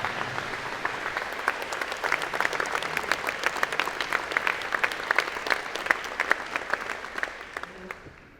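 Warm audience applause at a college of engineering and computer science convocation, a sustained wash of many clapping hands that holds steady, then fades toward the end.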